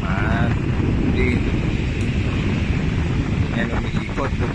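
An Astron stand fan runs after repair, its motor freed from a stuck shaft and bushing, giving a steady, loud broadband whoosh of airflow that continues unbroken close to the microphone.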